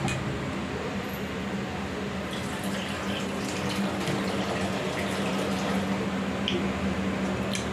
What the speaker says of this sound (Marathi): आता याच्यात मी पाणी घालणार आहे